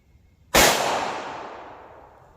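A single Ammo Inc .380 ACP round fired from a Glock pistol: one sharp, loud, close crack with a long, fading ring after it.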